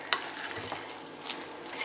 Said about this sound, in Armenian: լավ կխառնենք